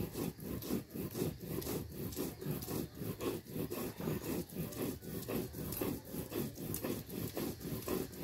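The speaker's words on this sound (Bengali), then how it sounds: "শুটকি বাটা দেওয়ার আগে মরিচটাকে অনেক ফ্রেশ করে বাটবো" Chili being ground by hand on a stone grinding slab (shil pata), a steady rasping scrape of stone on stone repeating about twice per second, close and fairly loud, continuing without pause and without talk.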